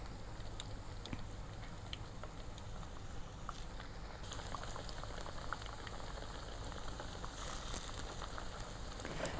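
Bajji fritters in batter fry in hot oil with a constant fine crackling bubble, a busy close-up sizzle that rises a little in brightness partway through.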